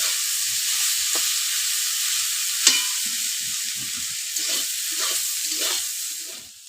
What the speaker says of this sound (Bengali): এখন আমরা আলুগুলো দিয়ে দেবো তো আলুটা এখন ভালো করে ভেজে নেব